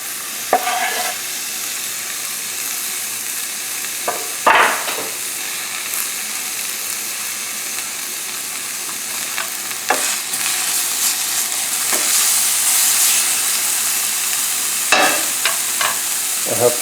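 Onions and garlic sauté in butter in a pan, a loud steady sizzle with occasional stirring knocks and scrapes that stays constant and close for the whole stretch.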